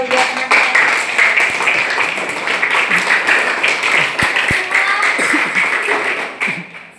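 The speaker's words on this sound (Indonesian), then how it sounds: "Kita berikan tepuk tangan buat dua" Students applauding classmates in a seventh-grade Indonesian-language class, a sustained round of clapping from a room full of pupils, steady and fairly close, with a few sharper taps and tapering off at the end.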